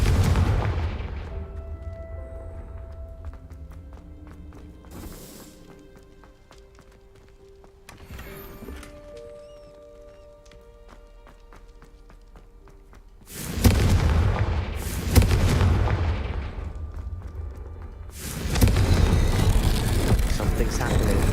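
Confringo fire spell explosions in the video game Hogwarts Legacy: three heavy, booming blasts in quick succession near the end, after a quieter stretch of tonal game music and faint effects.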